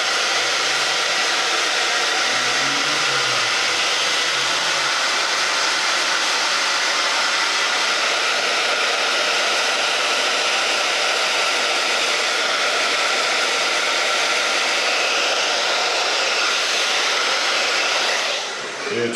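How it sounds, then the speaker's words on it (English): A hair dryer blow-drying hair in a barbershop roars loudly and steadily for nearly twenty seconds, close by with a constant airflow rush, before cutting off at the end. "let that dry out while I'm blow drying and styling"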